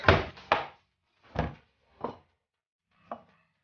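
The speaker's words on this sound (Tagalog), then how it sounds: "Kagayat lang tayo ng kamatis" A knife chops through tomatoes on a cutting board, five distinct thuds: two quick ones close together, then three more spaced out and gradually softer, with quiet between strokes.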